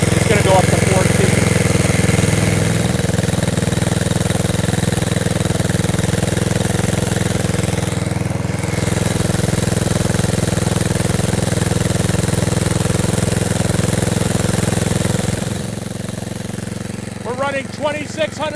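A loud engine running on gasifier fuel at 2,600 RPM, generating electricity, holds a constant speed with a continuous droning hum, easing off slightly near the end as faint voices come through.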